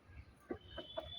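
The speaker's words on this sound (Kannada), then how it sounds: "ಹುಂಜಗಳು ನೋಡಿ, ಹುಂಜಗಳು" Roosters in a backyard poultry yard in a overgrown garden give a few short clucks and low calls, two or three brief bursts over a faint outdoor background.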